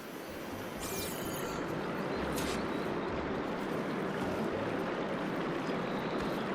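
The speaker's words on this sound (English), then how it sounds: "Aloy, I can hear water in the room again." Water flows steadily through a room in a video game, a loud, continuous rushing wash that swells in within the first second and then holds constant with no talk over it.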